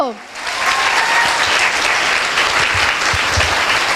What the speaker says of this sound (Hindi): एक जोरदार ताली होनी चाहिए दोस्तों।